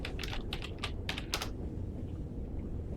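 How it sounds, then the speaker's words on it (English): Quick, light clicks of typing on a computer keyboard come in a short, uneven burst over the first second and a half, fairly close, then stop and leave a low room hum. "I'll just type it in."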